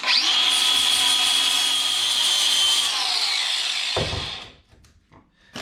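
A power drill bores holes during custom fabrication for an aftermarket power steering reservoir install, a loud, close, steady whine for about four seconds that stops abruptly, followed by a few faint clicks and handling noises.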